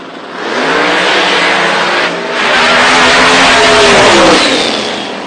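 Classic American muscle car engine revving loud and close, a sustained roar that dips briefly, then swells again before easing off, with no talk over it.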